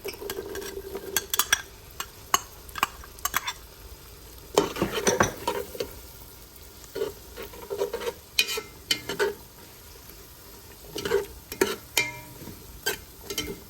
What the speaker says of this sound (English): Add the celery.